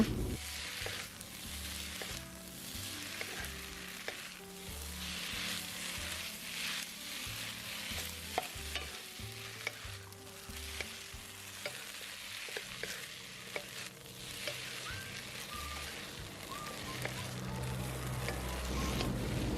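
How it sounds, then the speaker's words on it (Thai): Glass noodles with egg and vegetables stir-fried in a pan with two spatulas, giving steady close sizzling broken by regular scraping and tossing strokes, no voices. "ใช้ตะหลิวสองอันแบบนี้ผัดนะคะ ก็จะทำให้วุ้นเส้นของเราไม่เละนะคะ"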